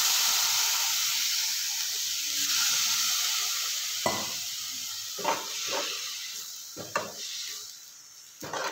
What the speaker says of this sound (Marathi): आणि थोडासा पाण्याचा आता सपका मारायचा.